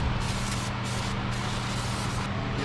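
Brake cleaner sprays in a continuous, steady hiss onto a Mk7 GTI brake bracket, close up and uninterrupted, with no voices.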